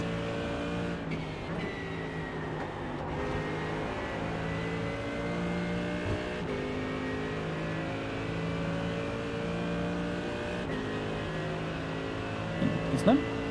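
Mercedes GT3 race car in iRacing, a steady engine drone layered with a rising gearbox whine that runs continuously at moderate level, with a faint tonal sweep near the end.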